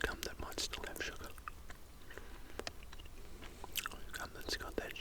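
Close, moist chewing of sugary PK chewing gum with soft bites and mouth clicks, mixed with quiet whispering, all in an intimate ASMR-style setting.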